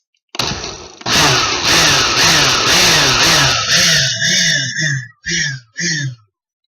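A blender motor whirs in a long run through warm gravy, then cuts into a few short pulses with brief pauses between them.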